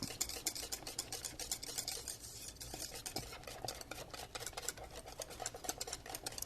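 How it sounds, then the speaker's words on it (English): A whisk steadily stirring thickening vanilla pudding in a pot, scraping along the bottom with continuous rapid clinking and swishing, close and fairly quiet, with no talking. "you want to keep your whisk moving along the bottom of it to make sure nothing sticks to the bottom"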